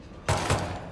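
A single pistol shot in Hitman 3, one abrupt bang with a short second burst of echo, close and loud after a brief quiet moment.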